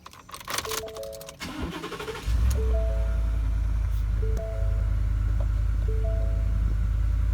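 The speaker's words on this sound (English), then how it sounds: "let's get a cold start rolling real quick" Ford F150 pickup truck engine cold start: a few rattling clicks and starter cranking, then the engine catches and settles into a loud, steady low idle with a brief dip midway.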